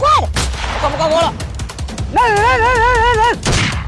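Cannon blasts in a comic Gujarati skit, two loud booming shots separated by warbling electronic sound-effect tones, close and dominant throughout.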